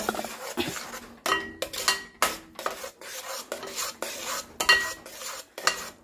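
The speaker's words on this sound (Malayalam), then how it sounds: "കട്ടയില്ലാണ്ട് ആദ്യം ഒന്ന് ഇളക്കി കൊടുക്കുക" A spoon scrapes and clinks repeatedly against a pan, stirring two cups of powdered flour so it has no lumps before jaggery syrup goes in, giving a rhythmic series of sharp scraping strokes with short pauses between them.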